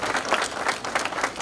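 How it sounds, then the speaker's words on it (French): Audience applause at a Beninese diaspora gathering in the USA, a steady wash of clapping from a crowd with no voices over it. "je voudrais que vous l'applaudissiez"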